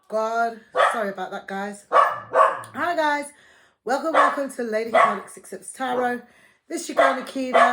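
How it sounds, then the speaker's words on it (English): An indoor dog barks at someone outside, with a few sharp barks breaking in while someone talks close to the microphone almost throughout. "Please excuse the dog."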